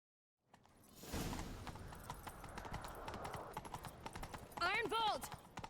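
Horse hooves clip-clop quickly and steadily in The Witcher 3: Wild Hunt during a chase, with game voices speaking over the galloping and a loud whinny near the end.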